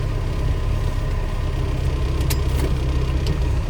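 A Suzuki Samurai with a swapped-in 2.0L engine runs steadily at a loud, close, low rumble, unchanging throughout, with a few faint clicks on top and no talk.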